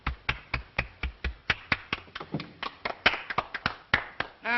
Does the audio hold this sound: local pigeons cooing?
no